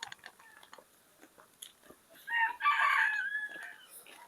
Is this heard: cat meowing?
no